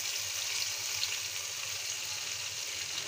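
Ground coriander, cumin, turmeric, chilli powder and garlic paste sizzle steadily in a pan, a continuous close hiss with no pauses and no voices.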